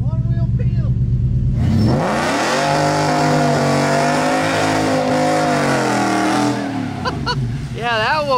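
A Ford race truck revs hard and spins one wheel, a loud close engine roar that climbs and holds for several seconds before dropping away, with excited voices before and after the run.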